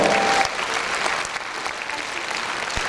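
Concert audience applauding an Ossetian singer, a dense steady wash of many hands clapping at once, loud at the start and holding evenly throughout with no voices on top.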